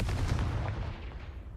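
A Confringo spell blast from the video game Hogwarts Legacy, a dense, booming explosion with a heavy low rumble that rolls on and slowly fades over about a second and a half, with no voices.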